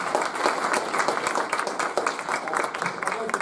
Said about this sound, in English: Let's give a round of applause to the judges.